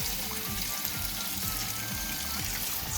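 Hot water running from a tap in an RV, a steady close gush and splash, continuous and moderately loud with no talking.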